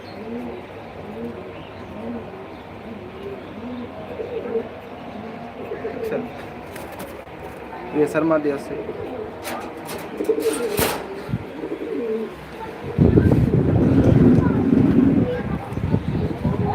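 Pigeons coo repeatedly in a low, throaty rhythm close by while someone talks over them, with a few louder bird calls and flutters mixed in.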